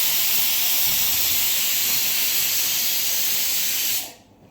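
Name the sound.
pressure cooker whistle hissing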